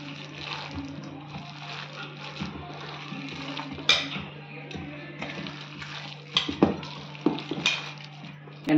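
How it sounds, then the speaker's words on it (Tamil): Chopped onion being stirred by hand into a thick ground lentil batter for paruppu vadai, giving soft wet squelching and scraping with occasional clinks of a bowl or utensil over a steady low kitchen hum. "இப்போ வெங்காயத்தை போட்டு மிக்ஸ் பண்ணிடுங்க."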